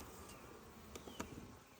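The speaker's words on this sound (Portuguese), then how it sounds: "Olha lá, estão acabando de entrar aos poucos, né?" Bees buzzing faintly around a tree trunk during a hive rescue, a soft steady hum with a few brief closer passes over a quiet outdoor background.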